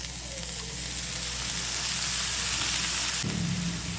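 Chopped spinach (palak keerai) frying with onions in a pan for kootu, a steady close sizzle running throughout, briefly stirred near the end.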